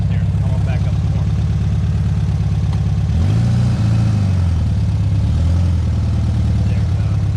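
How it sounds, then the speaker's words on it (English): A Volkswagen engine rumbles low and steady as the car reverses, its pitch shifting partway through as it works harder, close and continuous. "Video of driving a Volkswagen in reverse"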